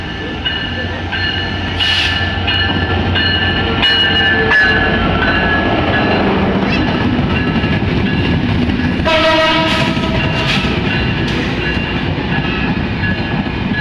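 The Jahanabad Express pulls out of Dhaka, bound for Benapole via Khulna, with a steady loud rumble of wheels and carriages and long tonal horn blasts, the first near two seconds and a stronger one around nine to eleven seconds.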